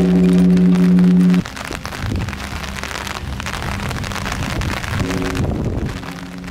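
Steady rain hisses on surfaces outdoors, with a humming tone at the start and again near the end.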